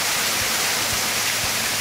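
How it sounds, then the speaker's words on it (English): Heavy rain pours down in a storm, a dense, steady roar like standing under a waterfall, loud and close with no letup, with a few dull low thumps under the wash. "It is absolutely bucketing down here."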